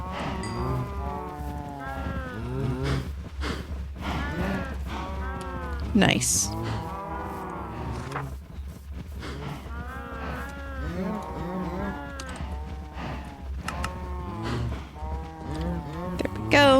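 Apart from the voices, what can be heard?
cows mooing in Minecraft video game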